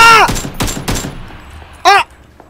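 Gunfire in the battle-royale video game PUBG: three quick, sharp shots in close succession, loud and near, with short vocal bursts around them.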